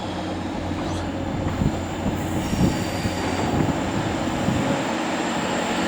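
A train departing York station, its steady rumbling roll and faint wheel squeal carrying on for several seconds at moderate distance, with a voice speaking briefly over it.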